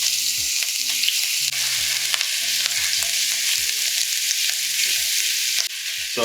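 Ginger garlic paste sizzles loudly in hot mustard oil while being stirred, a close, bright continuous crackle broken by repeated scraping strokes of a utensil against the pan.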